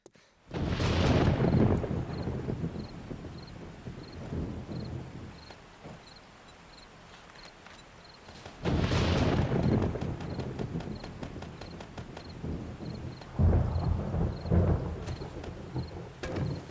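Thunder rumbles and crashes in a video game storm, with two big rolling peaks separated by quieter wind and rain, plus a faint repeating ticking in the background.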